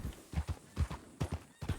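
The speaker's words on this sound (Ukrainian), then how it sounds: "А, я на коні." Horse hooves clip-clop at a steady walking rhythm in the video game Red Dead Redemption 2, each footfall distinct, close and moderately loud with no talking over them.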